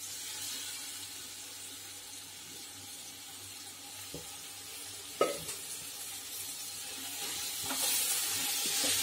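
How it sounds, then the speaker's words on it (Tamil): Mint leaves for chicken biryani sauté in a pan with a steady, soft sizzle and some stirring, and a sharp scrape or clank near the middle. There is no talking. "புதினா 1 2 நிமிஷம் வதக்கிக்கலாம்."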